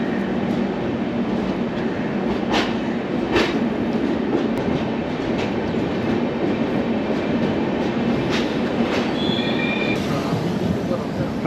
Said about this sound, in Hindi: इलेक्ट्रिक लोको वापस से अब हमें हमारी मंजिल तक पहुँचाएगी।